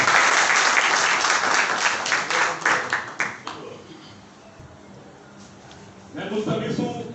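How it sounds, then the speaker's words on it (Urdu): Audience applause at a police officer's farewell gathering, many hands clapping loudly and then breaking into a few rhythmic unison claps before fading to quiet, with murmuring and renewed crowd noise at the end. "آپ کی بھرپور تالیاں ہوں گی۔"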